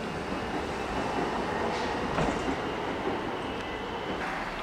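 A Frankston line train rolls past at Chelsea with a steady, close rumble and broad rushing noise that holds evenly throughout, with no voices.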